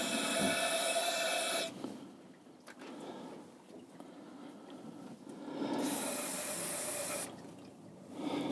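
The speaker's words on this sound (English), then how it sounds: "Brake cleaner." Brake cleaner sprays from an aerosol can in two loud hissing bursts, one about two seconds long and a second shorter one, with a quieter gap of handling between them, in a workshop during repair of a David Brown 990 tractor's three-way valve.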